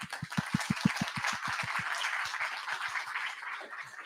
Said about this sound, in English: So big round of applause for Charlie.